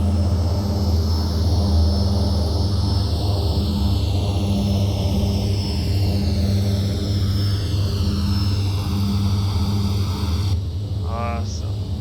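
An Embraer EMB 120 turboprop throttled back with its propellers in beta, a loud steady drone with a low thrumming pulse from the blades, filling the whole stretch and easing slightly near the end.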